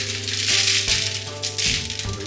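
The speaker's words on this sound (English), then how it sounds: "give it a little coating of some sesame seed oil here, and some actual sesame seeds" Sesame seeds sprinkled onto a pork butt give a dry, continuous rattling patter close by, swelling and easing in short pulses.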